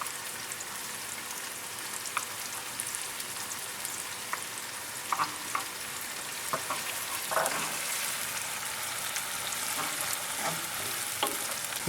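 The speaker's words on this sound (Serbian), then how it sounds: "pržit ćemo ovo jedno par minuta" Chopped garlic fries in oil in a pan for a homemade chilli sauce, a steady close sizzle with occasional stirring scrapes and pops, no voices.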